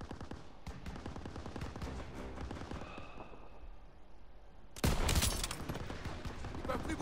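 Sustained gunfire in Call of Duty WWII, rapid crackling shots over a battle backdrop that jumps to a louder, denser burst near the end.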